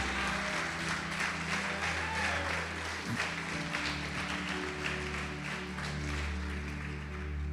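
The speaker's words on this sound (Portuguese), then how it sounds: "Pode aplaudir e glorificar Jesus por isso." A church congregation applauds to glorify Jesus during a sermon on the power of the blood. The clapping is faint and diffuse and sits under sustained, steady background tones, with no speech over it.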